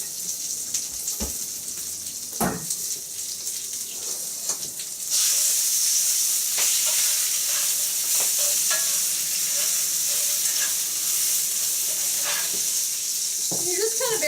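Spinach leaves hit a hot pan for an omelette and a steady, loud sizzle and hiss takes over, joined by scraping and stirring clatter and occasional low voices.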